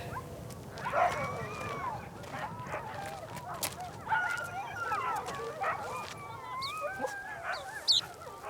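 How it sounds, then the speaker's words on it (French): Sled dogs in the far north howl and whine together in a chorus of long wavering cries, some louder and closer, others fainter, over an outdoor murmur with people talking faintly. "les chiens qui hurlent comme ça, de jour comme de nuit, on entend ça"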